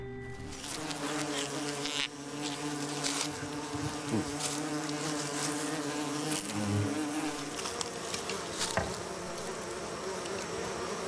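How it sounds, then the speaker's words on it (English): Large orchid bees, Eulaema bombiformis, in Panama buzzing continuously and close, deep droning wingbeats rising and falling as they fly around. "the biggest of all orchid bees in Panama, Ulima bombiformis"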